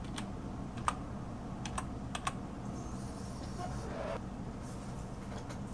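Someone types on a computer keyboard, a few quiet, sparse key clicks in a steady low background hum, with no voices.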